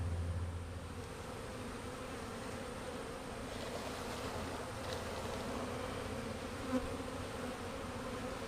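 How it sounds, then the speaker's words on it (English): Honey bees swarming around a used bee box make a steady, dense buzzing hum that lasts throughout, close and continuous with only slight swells. "That's a good amount of bees."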